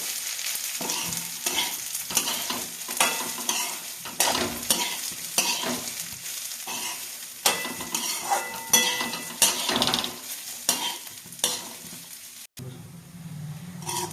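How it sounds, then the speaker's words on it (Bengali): Rice frying in ghee for pulao, a spoon repeatedly scraping and stirring the pan in an irregular rhythm over a soft sizzle, with occasional clinks of metal. "আমরা চালটাকে ভালোভাবে ভেজে নিচ্ছি ঘিয়ের মধ্যে।"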